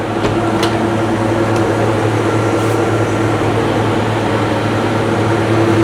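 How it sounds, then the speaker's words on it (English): A home freeze dryer runs steadily, a loud continuous mechanical hum and whir with a low drone, unchanging throughout and with no voices. "The freeze dryer now cooled down. I'm ready to turn it on."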